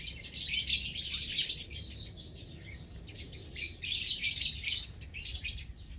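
A pair of lovebirds, one albino and one PB creamino, chirping close by in bursts of high, shrill twittering with short pauses between.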